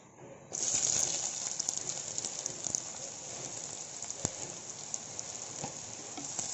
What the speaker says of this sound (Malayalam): നമുക്ക് സവാള നല്ലതുപോലെ വഴറ്റിയെടുക്കാം